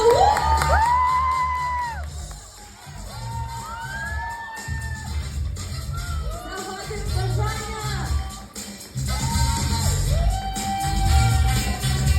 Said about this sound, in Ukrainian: Ну а ми аплодуємо і вітаємо іменинницю!